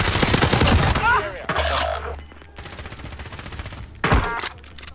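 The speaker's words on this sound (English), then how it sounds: "We're getting shot from somewhere else, I think." Rapid bursts of automatic gunfire and loud shots from a Call of Duty Warzone match, dense and close, with thumps and brief voices talking over the shooting.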